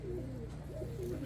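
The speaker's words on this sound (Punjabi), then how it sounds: "ਪੁੰਨੂ ਵਾਲੇ ਕਬੂਤਰਾਂ ਦੇ ਵਿੱਚੋਂ ਆ ਗਏ" Pigeons coo softly in short, repeating throaty phrases, heard close by over a steady low hum with no talking.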